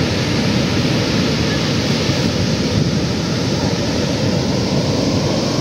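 Sea waves at Tondaligan Beach in Dagupan, Pangasinan make a loud, steady, unbroken wash of surf noise that fills the whole stretch.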